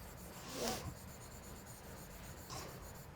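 A pen scratching across a board, marking and crossing out: two short, faint rubbing strokes about two seconds apart over a low steady room hum.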